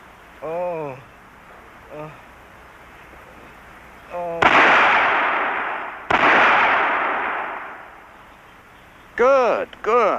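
Loud gunfire in a Holocaust war drama: two sharp shots with long decaying tails, separated by about two seconds, with brief voices speaking before and after.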